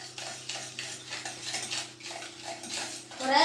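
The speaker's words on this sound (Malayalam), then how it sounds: "നമുക്കിനി മിക്സ് ചെയ്യാം" Spoon stirring and mixing sugar in a metal pot, a steady series of soft scraping, clinking strokes in a quick repeating rhythm, close up, ending with a louder clatter.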